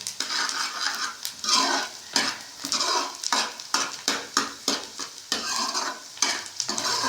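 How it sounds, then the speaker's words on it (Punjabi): Spice tempering for palak paneer is stirred in a pan, with steady sizzling and frying under repeated scraping and clinking strokes of a utensil against the pan, close and fairly loud. "ਤੇ ਤੜਕੇ ਨੂੰ ਸਾਰੇ ਨੂੰ ਚੰਗੀ ਤਰ੍ਹਾਂ ਭੁੰਨ ਲਾਂਗੇ"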